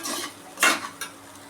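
A spatula scrapes and clinks through an okra and egg stir-fry in a pan, a few quick stirring strokes with one sharp metallic scrape, close and alone over a faint sizzle.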